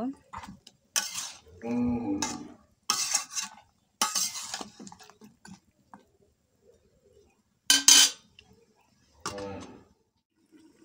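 Bottle gourd stir-fried in a pan in a village kitchen, heard as intermittent scraping and clattering bursts of a spatula against the pan, separated by pauses and a voice speaking between strokes.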